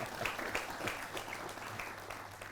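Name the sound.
studio audience applause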